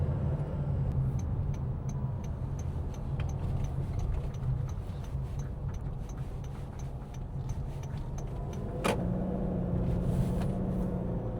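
A Toyota Yaris Cross hybrid with a CVT hums steadily while accelerating, its engine droning at a constant pitch with a rising tone near the end, heard from inside the car with no talking.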